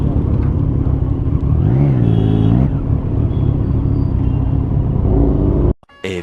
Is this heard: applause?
no